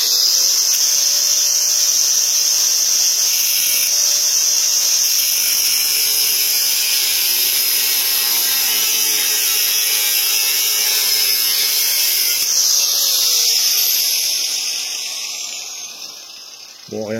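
Steady, loud high-pitched grinding hiss of a cutting tool slicing a slot into a seized screw on a pellet stove, continuous for most of the clip before tapering off near the end.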